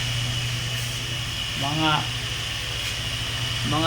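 A homemade dual-motor electric fan with a belt drive runs close by with a steady low hum and whir, while someone talks over it in short bursts.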